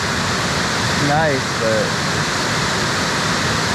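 Steady broadband rush of a waterfall in an Olympic National Park forest, constant and close, with a short spoken remark briefly over the roar.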